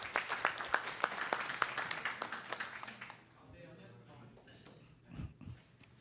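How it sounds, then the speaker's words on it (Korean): At a citizens' forum on the May 18 Gwangju uprising, an audience gives a round of clapping with distinct, fairly regular claps for about three seconds. It then fades into quieter room noise and a voice speaking. "박수 함께 보내주세요"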